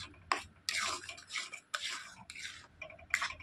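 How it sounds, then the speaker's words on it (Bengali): A spoon stirs semolina with milk and salt in a bowl, working it into a dough, with several close scraping and clinking strokes in an uneven rhythm, no talk. "এবারে ভালো করে একটু কিন্তু নেড়ে চেড়ে জাল করে একটা ডো তৈরি করে নেবো।"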